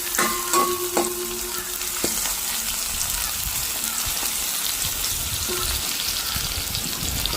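Onions fry in a pan with a steady, loud sizzle and crackle that fills the whole stretch, with a few metallic stirring knocks near the start and no talk.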